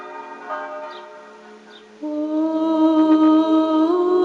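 Church bells ring out at the Church of the Holy Sepulchre in Jerusalem: sustained, resonant bell tones with rich overtones, quieter at first and then a louder strike around the midpoint that keeps ringing, with no talk.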